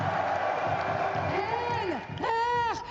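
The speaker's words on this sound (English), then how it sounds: "this crowd is amazing." Esports crowd at an EWC grand final arena, a dense roar of cheering and whooping voices that swells and stays loud throughout, with rising shouts near the end.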